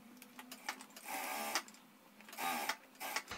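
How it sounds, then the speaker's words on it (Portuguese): A sewing machine stitches a fabric bag's lining in quick, buzzing runs, with two longer bursts of stitching separated by short pauses, close and fairly quiet. "Do jeito que tá aqui, a gente vai costurar."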